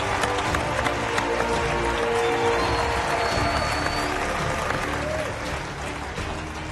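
Past competitors fill a MasterChef finale studio with sustained applause and cheering, a dense wash of clapping that holds steady and then eases slightly toward the end, with voices mixed into the crowd.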